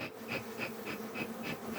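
Honeybees buzz around their hives, a close, steady drone with regular pulsing swells as insects pass near, quiet overall and with no voices.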